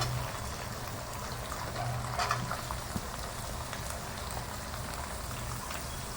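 Carrots added to a pan of fried chicken for chowmein, a continuous soft crackling sizzle with a brief louder burst midway, no talking.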